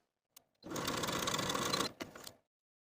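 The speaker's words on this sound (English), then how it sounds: "Now I can take the darts to the sewing machine and sew from the outside edge to the point" A sewing machine stitches a dart in one steady burst of rapid stitching for just over a second, with a couple of short clicks before and after.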